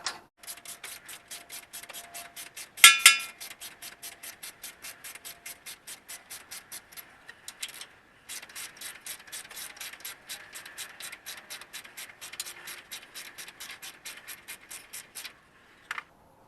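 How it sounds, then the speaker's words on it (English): A 13mm ratchet wrench loosens the rocker arm assembly nuts on a 2054cc VW Bug engine, a rapid, even train of close metallic clicks in long runs with a brief pause and one louder clank. "grab a 13mm and clank away."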